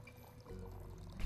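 A drink poured into a cup: a short, quiet liquid pour that swells slightly toward the end.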